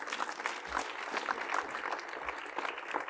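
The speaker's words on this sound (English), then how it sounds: "we should applaud in his honor" An audience claps in steady applause throughout, a dense patter of many hands at moderate level, with no talking over it.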